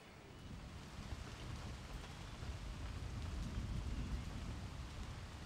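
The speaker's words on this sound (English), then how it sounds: "The rain is dying away." Rain falling in a Thai forest, a steady soft patter with a low rumbling wash, continuous and fairly even throughout.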